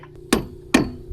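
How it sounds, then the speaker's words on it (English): A dock part is hammered into place outdoors with three loud, sharp metallic blows, evenly spaced and close, each ringing briefly. "Put her in and hammer it home."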